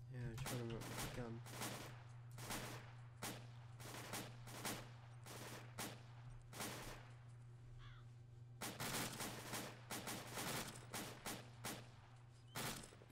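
Gunfire in a video game cracks out in loud, rapid bursts and single shots over a steady low hum, with brief pauses between volleys and voices occasionally talking.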